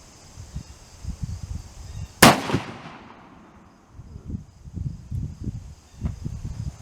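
A CVA Accura LRX .45 caliber muzzleloader fires a single loud, sharp shot with a long echoing decay outdoors, preceded and followed by quiet rustling and movement.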